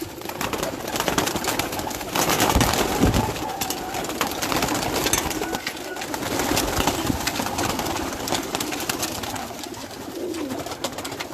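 Pigeons in a loft coo and call in a steady, busy chorus that fills the space at close range, with a few louder bursts standing out against the flock's continuous murmur.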